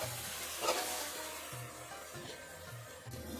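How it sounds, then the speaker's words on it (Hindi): Macaroni and mixed vegetables stirred gently in a pot, a soft continuous scraping and faint sizzle running steadily throughout at low volume, with no voices. "बस हल्के हाथों से इन्हें मिक्स करना है, कचूमर ना बने मैक्रोनी का"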